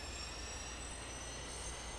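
F-4B jet engines spooling up to 85% throttle on a carrier catapult in a flight simulator game: a steady, dense roar with thin high whining tones running unbroken throughout, no voices.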